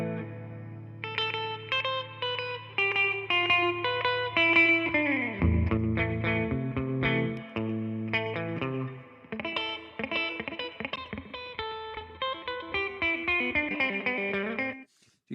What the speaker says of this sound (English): Let's listen to our guitar mics.